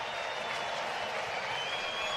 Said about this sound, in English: that's the Cardinal fans' first chance to cheer for something pretty special that Joshua Baez does